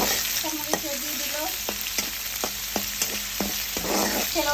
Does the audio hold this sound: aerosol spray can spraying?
no